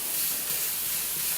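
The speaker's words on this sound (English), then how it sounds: "Here it's sizzling." Burger patties sizzle on a grill with a steady, close, broadband hiss throughout, alone without talk.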